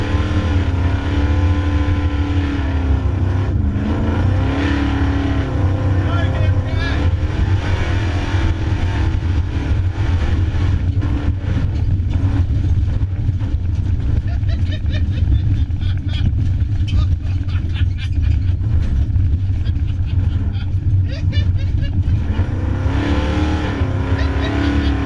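Muscle truck engine roars loud and close, a continuous rumbling drone with revving swells, heard alongside voices.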